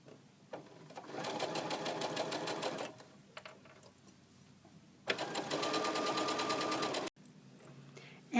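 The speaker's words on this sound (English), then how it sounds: "I'll sew this strip of fabric kind of like I did the last one, all the way down" A sewing machine runs in two steady, close bursts, stitching a strip of fabric for doll clothes, with a quieter pause between the bursts.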